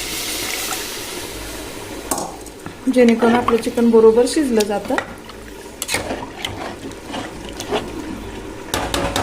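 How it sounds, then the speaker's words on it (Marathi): Hot water is poured into a pan of browned masala chicken, a brief liquid splash and sizzle around the middle, with a person talking throughout over stirring. "ह्याच्यात चिकन पूर्ण बडे एवढं गरम पाणी टाकून घ्यायचं आहे"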